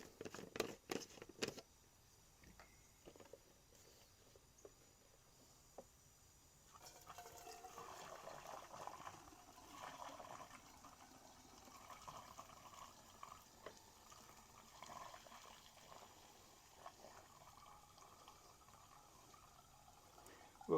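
Used carburetor cleaning bath liquid poured back into its can, a steady trickling and splashing that begins faint and grows fuller midway, close and quiet with no talk.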